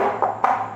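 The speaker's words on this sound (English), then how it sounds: "knock किया मैंने तो ठक ठक की आवाज़ आई" Two dull knocks on a classroom board, close and fairly quiet, spaced a moment apart with no talking.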